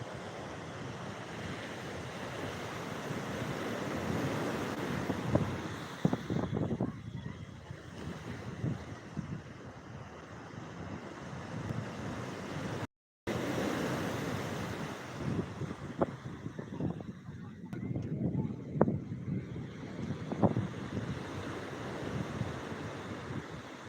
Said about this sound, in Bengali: ধীরে ধীরে জোয়ারের জল বাড়ছে ক্রমশ বাড়ছে